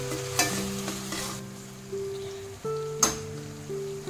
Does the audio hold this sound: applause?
no